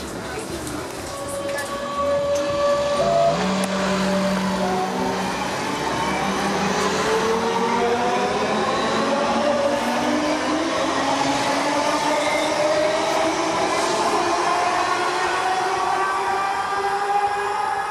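Steady rumbling ride aboard an S-Bahn commuter train running from Hanover main station toward Wunstorf in Lower Saxony, with rising and falling motor whine and rail noise, loud and continuous throughout.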